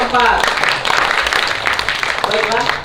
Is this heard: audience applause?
yes